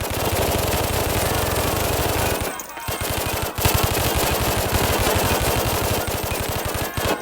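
Dense, rapid machine-gun fire in a tense emergency-broadcast scenario, rattling continuously at close range with a brief pause before resuming in sustained bursts.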